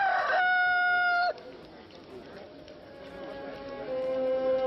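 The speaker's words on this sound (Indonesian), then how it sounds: "Sebelum ayam berkokok hari ini, engkau menyangkal aku 3 kali." A rooster crows loudly and close by, one long harmonic call that cuts off abruptly, followed by a fainter, more distant second crow over a quiet background.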